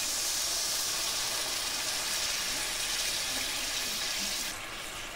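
Water pours into a cooking pan with a steady rushing, hissing splash. It is close and continuous and eases off near the end, with no voice over it.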